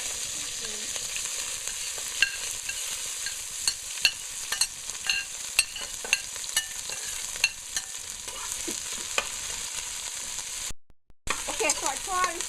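About a quarter cup of oil heating in a pan for beef stew, a faint continuous sizzle dotted with small pops and crackles, with a short break near the end.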